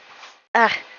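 A dog in a Sims-style life simulation game gives a short, close, rising whimper after a moment of soft breathy panting.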